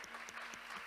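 Applause from a church concert audience praising God, a brief faint patter of many hands clapping steadily.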